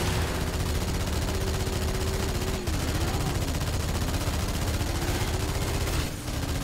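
Gunfire in a Halo 2 Anniversary team slayer match, steady shots buried in a dense, loud wash of game sound with a droning tone running underneath.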